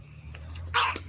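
A puppy gives a single sharp bark close by, preceded by a few faint yips and movement over a low background hum, with no talk.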